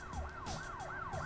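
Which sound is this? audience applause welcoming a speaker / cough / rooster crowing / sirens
sirens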